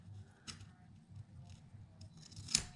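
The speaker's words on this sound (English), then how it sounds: "So I'm going to cut this off" Scissors cutting scrapbook paper at a craft workshop: a few quick, close snips, including one sharp cut near the end, over quiet room tone and faint rustling.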